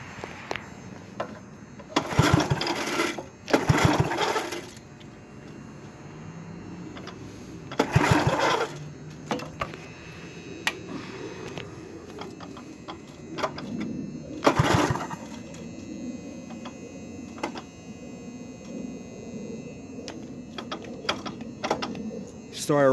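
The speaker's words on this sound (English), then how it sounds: "let's go ahead and hear this engine run." A Yard-Man Snowbird snowblower's small engine runs steadily with a rough, buzzing drone, punctuated by several louder bursts of revving or noise, with occasional voices in the background.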